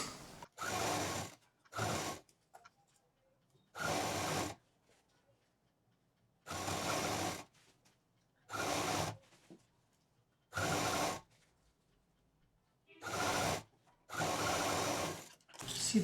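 A sewing machine sews a patchwork shoulder bag round its curve in repeated short bursts, each about a second long, separated by silent pauses while the fabric is turned.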